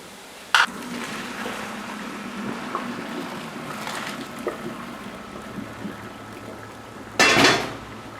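Cooked food is set to drain in a pot, with a sharp metallic clank at the start, quiet kitchen rustling, then a bright splashing pour and clatter near the end.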